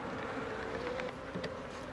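A swarm of Japanese honeybees clustering on a collecting board hums with a steady, dense buzz, close and continuous throughout, with no voices.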